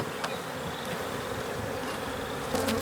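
Honeybees hum in an opened beehive during an inspection, a dense, steady, close buzz with individual bees briefly zipping past.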